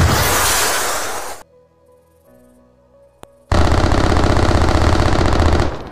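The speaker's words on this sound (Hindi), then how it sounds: "फिजा तोपों के गोलों और ट्रेसर्स की आवाज़ों से गूंज उठी" Long, dense bursts of rapid anti-aircraft gunfire, loud and continuous, broken by a roughly two-second quiet gap with a single sharp crack before firing resumes.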